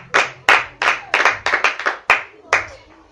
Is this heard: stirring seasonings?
no